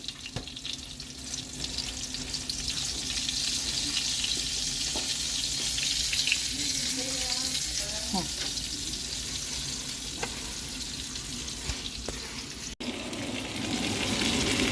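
Giant oysters coated in semolina sizzle in hot oil in a pan. The frying gives a steady, close crackle that carries on throughout, with faint scraping and occasional clinks over it.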